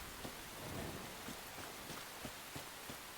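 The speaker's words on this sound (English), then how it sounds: "It's raining." Steady rain falls in a video game world, a dense even hiss with faint raindrop patters and occasional soft thuds spread throughout.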